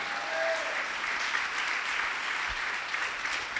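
Church congregation at a Sunday service breaks into a steady round of applause, fairly even and sustained, with a brief tonal sound near the start.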